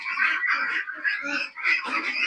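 Many white ducks quack together on a duck farm in a continuous, overlapping chorus, nearby and fairly loud.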